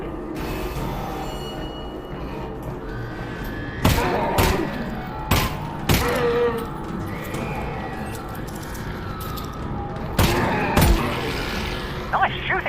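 Scattered gunshots in Half-Life: Alyx ring out as sharp, loud cracks spaced a few seconds apart over mechanical creaks and clanking, with voices talking in between.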